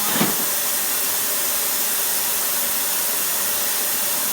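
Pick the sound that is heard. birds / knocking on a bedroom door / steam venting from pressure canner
steam venting from pressure canner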